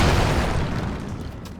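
A bomb blast in The Legend of Zelda: Tears of the Kingdom, a loud booming burst that starts at full force and then rumbles and decays slowly, with no other sound over it.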